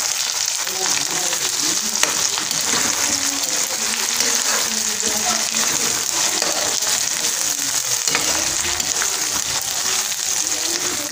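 Onion masala sautéed in a pan for a Punjabi dish, a loud continuous sizzle close up with faint stirring and no talk.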